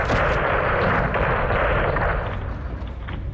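A massive airstrike explosion in Modern Warfare 2 levels a greenhouse, a loud, sustained roaring blast with rumbling debris that slowly tapers off.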